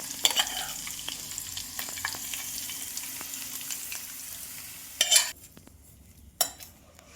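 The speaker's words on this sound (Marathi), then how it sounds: "आपण ही फोडणी आता याच्यावर टाकून घेऊ" Hot tempering of mustard seed, fennel, nigella, asafoetida and chopped green chili poured over a carrot and onion chutney, giving a steady crackling sizzle with a few sharp spurts and clinks, fading toward the end.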